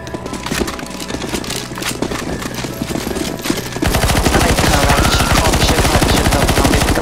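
Rapid automatic gunfire in the video game CS:GO Zombies, loud and continuous, starting as dense bursts and then becoming a harder, steadier stream of shots partway through, with no talk.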